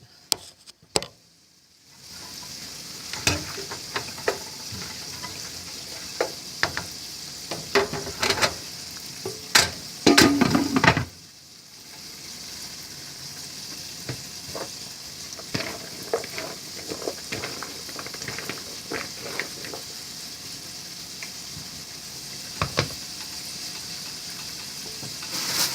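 Sautéed chicken being stirred in a sizzling pan for a chicken and kale salad: a steady hiss of frying with frequent utensil scrapes and clacks, one louder burst of sizzling near the middle, close and with no talk.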